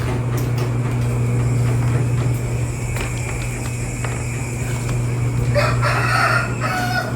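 A rooster crows amid steady background hum, the call rising in the last couple of seconds over a constant low drone.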